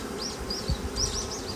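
Western honey bees buzz steadily at an open hive while the colony is moved from a nursery box into a ten-frame box. The drone is close and continuous, with individual bees whining past nearby.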